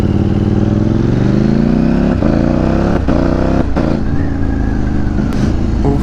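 A motorcycle engine drones loud and close while riding, with a steady rising pitch through the gears and brief dips at each shift, with no talking.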